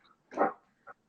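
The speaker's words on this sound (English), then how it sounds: "Sorry, that's my dog." A single dog gives one short, moderately close bark, then a small yip a moment later, against an otherwise quiet background.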